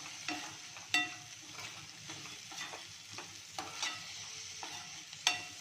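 Ivy gourd (tondli) with garam masala and salt sautés quietly in a pan, a low sizzle punctuated by a handful of crisp spatula scrapes and taps at irregular intervals.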